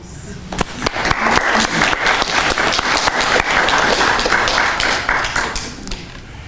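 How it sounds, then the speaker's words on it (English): A close audience breaks into a loud round of applause, many hands clapping in a dense, steady patter that swells quickly, holds for several seconds, then tapers off. "I think the star of that video deserves a round of applause"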